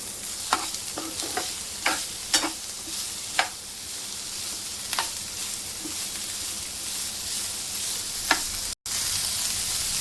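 Cauliflower, capsicum and peas stir-fried in a pan for masala Maggi, with a steady sizzle and a dozen or so sharp scraping strokes of a spatula at an uneven pace, close and clear with no talking.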